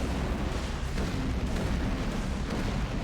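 Matter-antimatter launcher rounds detonate in the X3: Terran Conflict space game, a dense, continuous wall of rumbling blasts and crackling bursts that stays loud and steady throughout.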